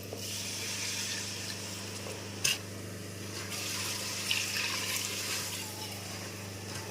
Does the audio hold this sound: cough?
no